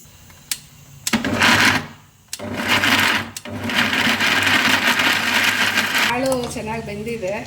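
A mixer grinder whirs in loud bursts while grinding fried tomatoes and other sambar ingredients, starting after a few clicks, pausing briefly, then running steadily before stopping.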